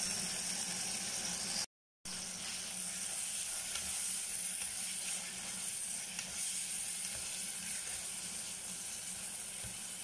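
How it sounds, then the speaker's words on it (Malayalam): Tomatoes sautéing in a pan for Palakkadan egg curry give off a steady, close sizzle of frying that runs without a break, apart from a very short gap near the start. Nobody speaks. "നല്ല പോലെ തക്കാളി വഴന്ന് വരട്ടെ"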